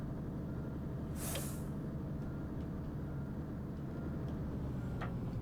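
A short hissing burst of air brakes releasing on a tourist bus in a simulator game, set against a steady low engine drone, followed by a fainter hiss near the end.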